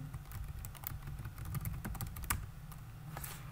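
Terminal commands being typed on a computer keyboard on an Ubuntu system, a close run of quick uneven key clicks with a few sharper taps, continuing steadily over a low background hum.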